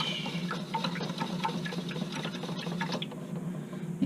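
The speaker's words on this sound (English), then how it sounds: "And we're going to rinse our brush." A paintbrush with green acrylic paint swished in a water container, giving a series of small quick splashes and taps over a low steady hum.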